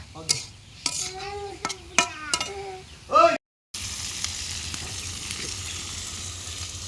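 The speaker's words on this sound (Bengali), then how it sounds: "এই যে করলা ভাজি হয়েছে লতার জন্য বসাইছি পেঁয়াজ মরিচ" Bitter gourd frying with onion and chili in a pan: a voice talks over faint kitchen noise at first, then after a short gap a steady, close sizzle runs alone to the end.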